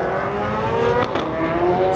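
A ZL1 Camaro race car at an LS Fest West event powers through a chicane on cold tires, its engine droning steadily and loudly with a brief shift in pitch midway.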